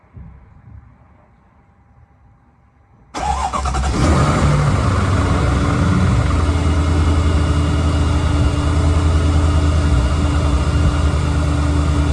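A 2007 Mercedes S550 with the M273 engine, just after a timing chain tensioner repair, cranks and starts abruptly after a few seconds of quiet, then settles into a loud, steady idle close by with no talking.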